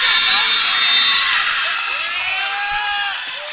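A high school basketball crowd at a Forrest City versus Wynne game cheers and whoops loudly and continuously, fading slightly toward the end, with a voice talking over the noise.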